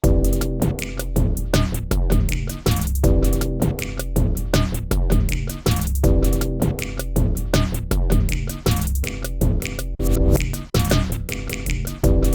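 Roland TR-6S drum machine running a steady pattern with its auto fill-in scatter effect, dense repeating kicks, snares and hats with rhythmic stutters cycling through loudly and continuously, no talking.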